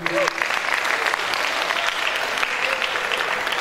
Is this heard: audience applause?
yes